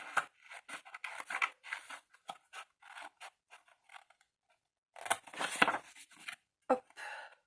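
Small scissors snip through paper box tabs in short, quiet bursts of close cutting and rustling, with pauses between runs of snips.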